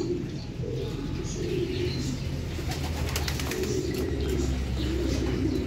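Racing pigeons coo in low, soft, repeated rolls at their loft, close by, with a few faint chirps and background rustle layered over the steady cooing.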